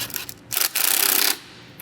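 A hose clamp being tightened on the power steering reservoir of a Volvo P2-platform car, giving a rapid run of close, metallic ratcheting clicks in two bursts, the second longer and steady, with no talk.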